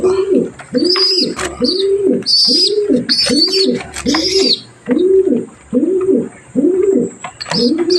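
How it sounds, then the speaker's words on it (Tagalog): Domestic pigeons coo in a close, loud, regular series of about a dozen rising-and-falling calls, with a few higher chirps layered over the top and no talking. "So lahat po yan bibigay natin dito sa ilan nating kalapate."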